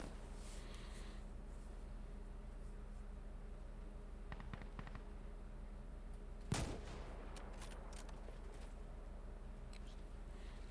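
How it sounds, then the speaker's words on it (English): M24 sniper rifle fire in Insurgency Sandstorm: a single sharp, loud shot cracks out midway through, with fainter distant gunfire scattered before and after over a low, steady battlefield hum. "One of the most satisfying guns in any shooter, right here. The M24."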